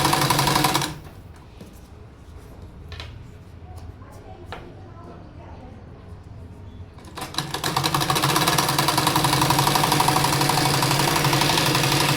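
Sewing machine stitching the hem of a salwar bottom, running steadily and loud from about seven seconds after a quieter stretch of faint clicks and handling at the start, with no talk over it.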